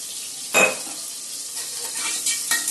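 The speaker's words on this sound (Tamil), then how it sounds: "ஸோ ஆனியன் நல்லா வதங்கணும்" Onions sautéing in a pan for a vegetable biryani give a steady close sizzle, with one louder scrape of stirring early on and lighter stirring scrapes near the end.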